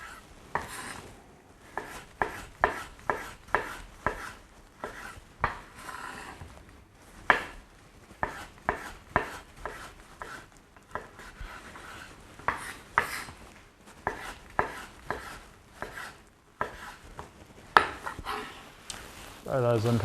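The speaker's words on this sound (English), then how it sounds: "Just going to put thin strips here of tomato" A kitchen knife cuts a tomato into thin strips on a board, making a long run of quiet, fairly regular taps and chops, several per second, with a few soft bumps and small pauses between strokes.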